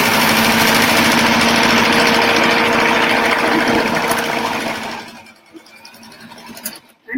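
A sewing machine stitches a seam on a fabric toy sack, its steady, buzzing motor running continuously for about five seconds before stopping, followed by faint handling noises.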